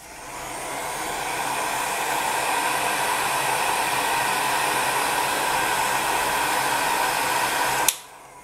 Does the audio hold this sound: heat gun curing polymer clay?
yes